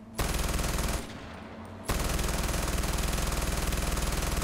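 Rapid automatic gunfire from a weapon in the video game Far Cry 4: a dense, loud, unbroken rattle of shots, a brief lull of under a second, then the stream resumes at full force.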